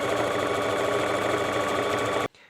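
Sewing machine stitching hoodie fabric, running at a steady, dense mechanical hum for about two seconds before stopping abruptly, leaving a faint rustle.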